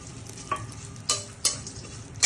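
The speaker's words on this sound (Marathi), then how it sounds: "आता याच्यामध्ये मी हे ड्रायफ्रूट्स टाकत आहे।" Dry fruits are stirred and roasted in melted ghee for karanji, a soft sizzle under three or four sharp scraping strokes of a spoon against the pan, heard close with no talking.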